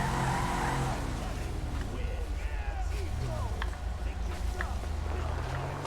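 Car engine droning steadily in a GTA RP roleplay game, loud and continuous with revving and shifting tones, while people talk over it.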